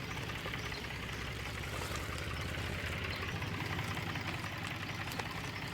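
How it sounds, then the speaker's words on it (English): A tractor engine idles in the game Farmer's Life, a steady low rumbling drone with a dense mechanical hum that holds evenly throughout without breaks. "turn the tractor around, keep it off the grass"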